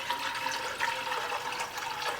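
Water poured into a pot of stock, a steady splashing, gurgling stream that runs without a break at moderate volume, no talking.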